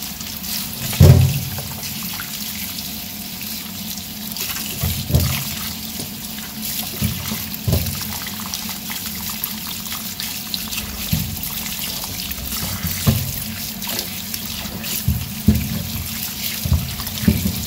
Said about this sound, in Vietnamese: mình sẽ rửa dưới vòi nước trực tiếp này nhé